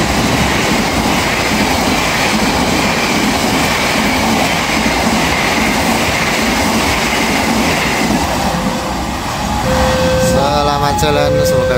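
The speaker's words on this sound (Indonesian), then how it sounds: "Kereta Api Gajah Yana melintas langsung stasiun Munut." Gajah Yana passenger train passing straight through Munut station in Indonesia: a loud, sustained rumble of rolling wagons with clattering wheels, then a horn-like tone and squealing near the end.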